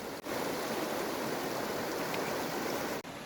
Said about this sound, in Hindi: नदी में पानी साफ बह रहा है